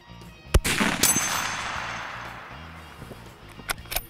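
A Mossberg Patriot bolt-action rifle fires outdoors: a loud, sharp report, then another a half-second later, with a ringing echo decaying behind them, followed by a couple of quieter cracks and clicks near the end.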